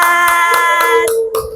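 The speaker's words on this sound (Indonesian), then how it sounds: "tepuk tangan untuk kelompok" A classroom group claps for a team of students, a few sharp, close claps in a loose rhythm over a sustained tonal background that fades near the end.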